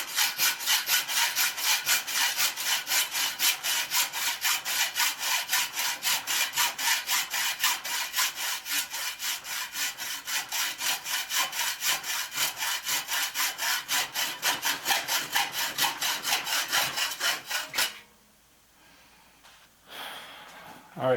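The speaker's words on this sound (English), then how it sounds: "just cut some slits in it with the jab saw" A hand jab saw cuts slits into a stuck metal bicycle seat post, a close, loud rasping rhythm of quick even strokes repeating for many seconds before stopping, followed by a short quiet pause and a faint clunk.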